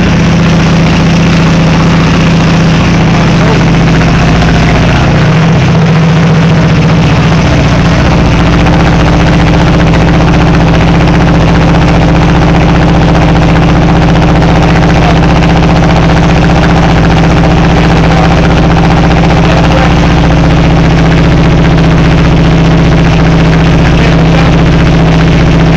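A racing lawnmower engine runs on low throttle, giving a loud, steady droning idle that holds unbroken throughout with a deep rumbling tone.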